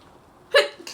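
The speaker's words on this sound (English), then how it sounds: "I gotta sneeze." A single short, sharp sneeze bursts out close by, followed by a faint breath.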